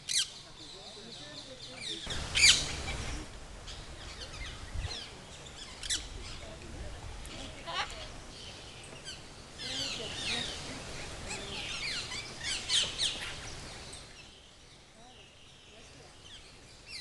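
Birds squawk and chirp at Casela park in Mauritius, scattered calls rising in bursts over a steady outdoor background, with someone talking over much of it.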